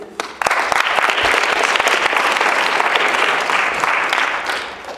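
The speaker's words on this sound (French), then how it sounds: "Je vous demande d'applaudir Marc-David Aymon" A student debate audience breaks into loud, dense applause, starting with a sharp burst and holding steady for several seconds before tapering slightly.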